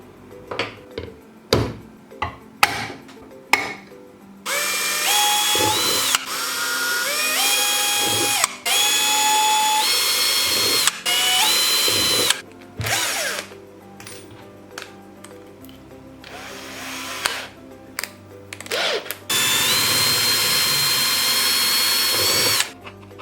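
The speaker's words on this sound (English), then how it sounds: "I will be using the 5mm drill bits for the LEDs and also the 12mm drill bit" A power drill with 5mm and 12mm bits bores holes for LEDs and a switch, whining in several sustained loud bursts with pitch shifts, separated by short clicks and handling knocks.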